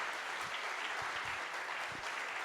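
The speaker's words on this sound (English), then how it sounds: "another big round of applause for all of the work that they're doing" Applause from a small audience fills the room, steady and fairly faint, with scattered individual claps standing out.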